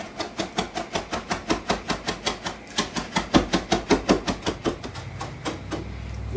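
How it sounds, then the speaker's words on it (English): Cilantro chopped finely with a knife on a cutting board, a fast, even rhythm of crisp close chops continuing for several seconds with no talking. "we're just going to chop this very fine"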